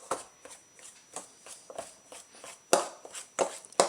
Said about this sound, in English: So I just cut it all in until it looks like little peas or something.